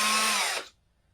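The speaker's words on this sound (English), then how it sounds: "run that drill proportionally" A power drill gripped and run by a Taska prosthetic hand whirs loudly for about half a second, then winds down and cuts off, leaving near silence.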